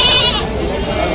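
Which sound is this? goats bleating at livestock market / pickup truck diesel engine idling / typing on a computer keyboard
goats bleating at livestock market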